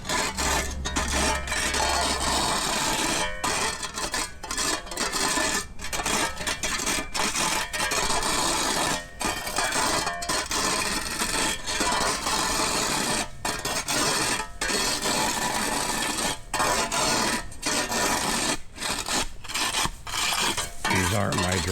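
A scraper rasps and scrapes repeatedly as debris is cleared off a street drain, producing continuous gritty strokes with brief pauses, close and fairly loud, without any talking.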